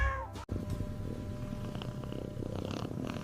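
A fluffy cat purrs steadily up close, the soft continuous rumble broken by a brief meow near the start.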